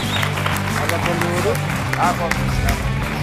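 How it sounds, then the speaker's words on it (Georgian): Studio audience applause on a Georgian television game show, steady clapping from a crowd mixed with cheering and babble, with a presenter's voice talking over it. "მიულოცოთ აპლოდისმენტები."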